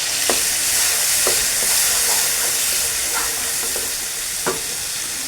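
Spices fry in a pan with a loud, continuous sizzle, while a utensil knocks against the pan now and then in sharp, separate clicks.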